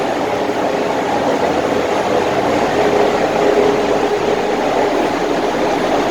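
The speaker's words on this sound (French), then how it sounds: "Le moteur est en marche, le piocheur, vous voyez bien, il est en marche." The motor of a brickworks clay digger running in automatic mode, a loud continuous mechanical rumble and whir with a steady, even texture throughout.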